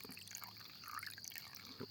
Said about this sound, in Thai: เทน้ำกดเข้าไปก่อนครับ